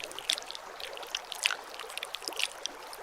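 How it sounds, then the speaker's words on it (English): Water of a small creek trickling and burbling over stones, a soft continuous wash dotted with brief bright splashes and drips, fairly close and quiet, with no voices. "This creek is quite a ways away from home."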